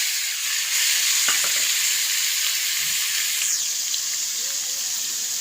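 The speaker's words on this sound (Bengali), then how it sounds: "এবার সয়াবিনগুলোকে দিয়ে দিচ্ছি। সয়াবিনগুলো ভেজে নেব।" Soya chunks fry in a pan with loud, constant hissing sizzle, broken by a few light clicks and stirring scrapes, close up and without speech.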